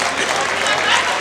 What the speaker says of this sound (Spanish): Que se escuche el aplauso, por favor,